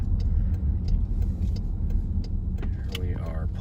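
A Lowbuck LS-swapped vehicle rolls up at home after a long road trip, its steady engine and road rumble filling the clip, with a brief mechanical whir and clicks near the end as it stops.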